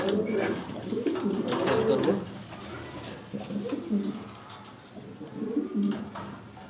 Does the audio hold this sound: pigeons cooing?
yes